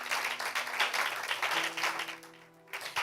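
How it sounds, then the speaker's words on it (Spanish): A church congregation claps together in a steady, dense wash of applause lasting a few seconds, with sustained music tones beneath and a brief dip before the clapping picks back up. "¿Por qué no le da un aplauso al Señor?"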